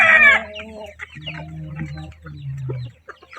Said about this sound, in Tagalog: Dito naman Rhode Island Red yan.